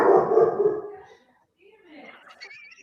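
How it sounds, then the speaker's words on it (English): A dog barks and yips in a home during a podcast about reloading, a short burst of sharp, close barking followed by softer whimpering sounds, with people talking nearby. "when the dog barks like that"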